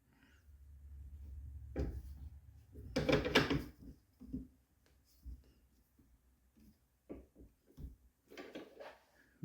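A rifle barrel is clamped in a workshop vise near the front sight, producing a few close metallic clunks, scrapes and taps with quiet gaps between.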